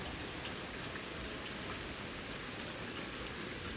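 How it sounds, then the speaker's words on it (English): Steady rain falling in the video game Ultimate Fishing Simulator, a soft, even hiss of drops on surfaces that stays constant and fairly quiet with no voices over it. "Starting to rain a little bit."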